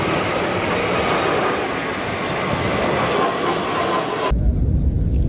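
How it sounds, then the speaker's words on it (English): A Wizz Air A321neo on a gusty, steep landing approach at Madeira airport, its engines roaring loud and steady, then a sudden shift to heavy low rumble near the end as it touches down. "And thanks to Pedro, here we can see such fight with the wind of Wizz Air A321neo, which end up with quite steep going."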